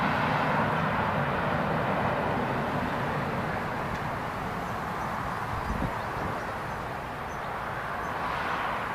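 An aircraft departs Newcastle International Airport, its engines a broad, steady roar at a distance that eases slightly toward the end.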